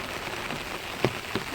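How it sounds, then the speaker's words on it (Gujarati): Heavy rain pouring down near a temple, a dense even patter on surfaces with a couple of louder drip hits, no voices. "કેટલો બધો વરસાદ પડે."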